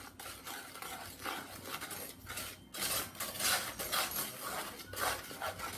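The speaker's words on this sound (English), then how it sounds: "So we're going to stir this up really good." A spoon is stirring a thick chocolate fudge mixture for haystacks in a pot. It makes rhythmic, close scraping and rubbing sounds in repeated strokes, with a brief pause partway through.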